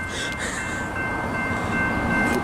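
A train passes near a railroad in Jonesboro as a steady, broad rumble with faint high whistle-like tones, moderately close and with no talk.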